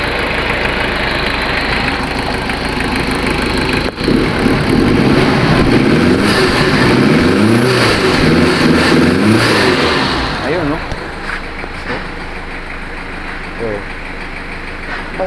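A Toyota 1KZ diesel engine runs loud and close, idling roughly, then revving up and back down, with a voice talking over it.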